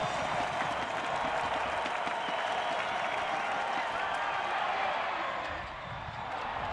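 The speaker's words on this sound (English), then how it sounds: "the crowd on its feet, cheering on the defense" College football stadium crowd at Memphis at Bowling Green on its feet cheering the defense on third down, a broad continuous roar with clapping that stays steady, far and diffuse, dipping briefly near the end.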